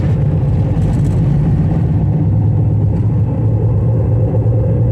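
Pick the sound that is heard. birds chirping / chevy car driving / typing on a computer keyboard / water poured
chevy car driving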